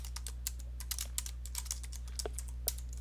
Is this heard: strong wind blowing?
no